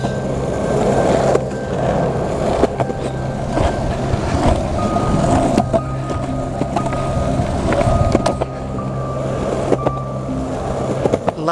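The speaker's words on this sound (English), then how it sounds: "Riding a skateboard along here on a cracking Sunday morning in the middle of winter." Skateboard wheels roll steadily along a street on a winter Sunday morning, a continuous low rumble with small clacks over cracks, under a faint high beeping tone, close and fairly loud throughout.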